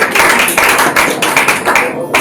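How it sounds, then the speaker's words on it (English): Rapid hand clapping from a small group honoring a restaurant team at a Yellow Chilli restaurant opening, steady and fairly close, lasting a couple of seconds on its own. "A big round of applause for all the team that's there"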